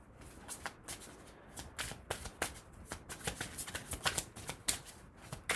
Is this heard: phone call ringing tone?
no